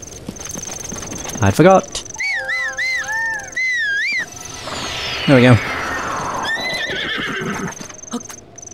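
A horse in The Legend of Zelda: Breath of the Wild gives loud whinnying neighs, several separate calls with a rising and falling pitch, along with hoof sounds and whistle-like game tones, while a person speaks briefly.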